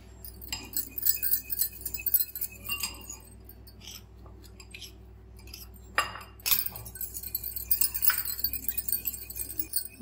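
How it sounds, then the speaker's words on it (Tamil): An egg, milk and jaggery batter for chocolate crepes is whisked in a bowl, making quick, steady clinks and scrapes that pause briefly midway and then resume. "இந்த முட்டையும் பாலும் நல்லா மிக்ஸ் ஆனவுடனே நம்ம வச்சுருக்க நாட்டு சர்க்கரையை கொஞ்சம் கொஞ்சமாக போட்டு கலக்கிடலாம்."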